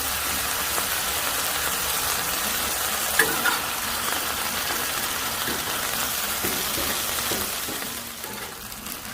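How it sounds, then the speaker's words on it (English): Frozen okra sizzles and crackles on a hot Blackstone griddle, a dense, steady frying hiss with occasional faint scrapes, no voices. "Next star of the show, fried okra"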